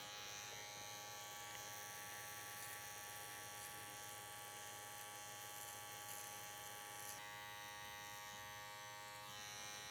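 An electric hair clipper buzzes steadily while cutting hair for a razor part haircut, a continuous close hum whose tone shifts slightly partway through, with no talk.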